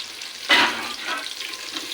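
Green chillies, onions and whole spices dropped into hot oil, a sudden loud splashy hiss that settles into a steady, softer sizzle of frying.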